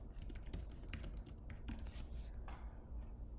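A message being typed on a computer keyboard, a fast, continuous run of soft clicking keystrokes heard close and quietly over a faint steady hum, with no talking.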